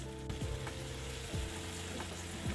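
Rice frying in a pot for Christmas jollof rice, a steady close sizzle running throughout with a few soft stirring scrapes and no voices.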